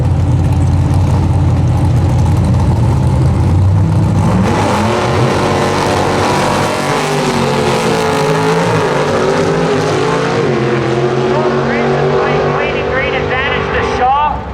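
Drag race car with a 468 engine and Lenco 4-speed launching at a drag strip: a loud, blaring engine roar that rises in pitch through quick gear changes, close and continuous, under a commentator's voice.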